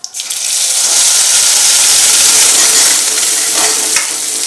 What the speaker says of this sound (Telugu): తాలింపు బాగా వేగుతున్నప్పుడే పప్పు డైరెక్ట్గా ఇందులో వేసేస్తే మనకు తాలింపు ఫ్లేవర్ అనేది పప్పుకి బాగా పడుతుంది అనమాట